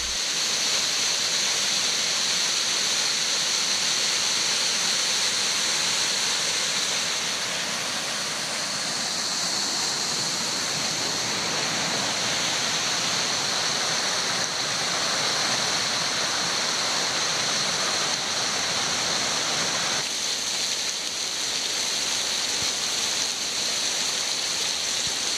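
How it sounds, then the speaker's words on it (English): Several waterfalls rush steadily after rain and snowmelt in Clifty Falls State Park, Indiana. The loud, continuous roar of falling water fills the scene with no other sounds. "During and right after rain events and snow melt, there are countless other waterfalls in the park."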